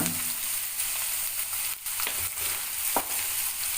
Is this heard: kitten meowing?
no